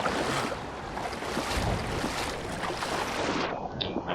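Splashing, rushing water as a character swims a long distance in the Dying Light video game, a steady wash of broad noise throughout with no talk.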